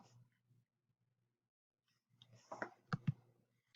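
A few short, sharp clicks near the end after a quiet stretch, like a computer mouse being clicked during an online class, with faint low hum in the background.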